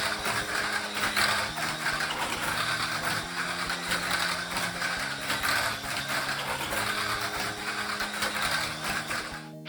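A Mini 4WD toy car fitted with small-diameter tires and a 3.5 gear ratio, a JCJC track setup, runs with a steady, dense whir of its motor and gears, holding at a loud and even level throughout.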